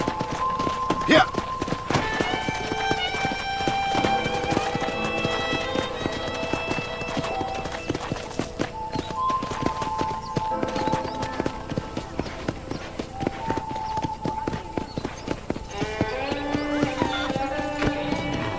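Horse hooves clip-clop steadily as a rider moves across a ranch in Red Dead Redemption, an even trotting rhythm running the whole time beneath music and people talking.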